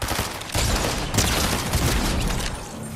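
Gatekeeper shotgun blasts in a multiplayer shooter, several loud heavy booms in quick succession with dense rumbling reverberation, close and forceful throughout.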